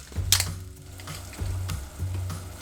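White wine is poured into shallots sautéing in a pan for risotto, giving a close sizzle and bubbling that surges in three bursts over a quiet background.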